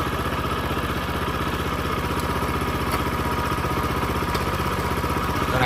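A single-row walk-behind rotary tiller engine runs at a steady idle, its even low chugging pulses and light mechanical clatter continuing unbroken and close.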